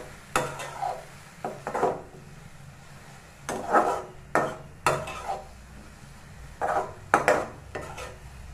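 Vegetable poriyal stirred in a pan, giving intermittent scraping and rubbing strokes of a spoon against the pan in short bursts with brief pauses between them, close and moderately loud, with no talking.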